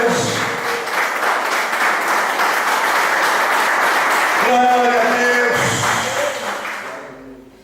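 A church congregation applauds loudly and continuously while music and voices carry underneath. The clapping later thins out alongside sustained instrumental tones and fades near the close.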